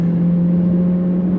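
An Alfa Romeo Tonale engine is worked hard at the Goodwood Festival of Speed, giving a loud, steady, close drone with a strong low hum and no pause.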